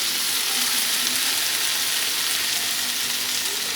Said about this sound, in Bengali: এখানে কলমি শাক ভাজা হচ্ছে